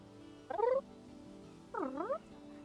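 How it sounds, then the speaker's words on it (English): A cat wakes up and gives two short meows, close and clear, about a second apart, over a quiet background hum. "Cat activation sound when they're sleeping and they wake up,"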